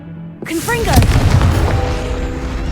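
A Confringo fire spell cast in Hogwarts Legacy, a sharp rising whoosh that bursts into a loud, booming explosion with a rumbling tail that lingers for a couple of seconds.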